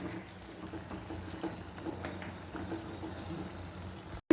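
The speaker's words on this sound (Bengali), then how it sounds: "মটনের এই যে জলটা আমি দিয়ে দেবো, আরও 5 মিনিট কষাবো।" Water pours into a pot of mutton curry with potatoes as it cooks, a steady soft rushing hiss lasting several seconds before stopping abruptly.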